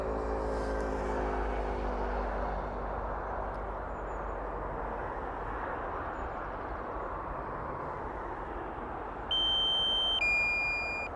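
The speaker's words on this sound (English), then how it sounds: "let's land it now before the beeping noise starts." A broad whirring drone hum fills the recording, then a series of high electronic drone warning beeps sounds near the end, stepping between two pitches.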